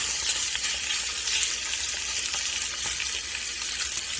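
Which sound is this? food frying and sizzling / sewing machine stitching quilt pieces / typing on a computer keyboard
food frying and sizzling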